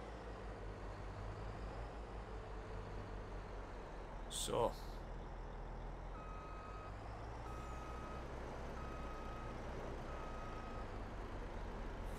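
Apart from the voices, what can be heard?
truck driving and reversing beeps, Farming Simulator 22 video game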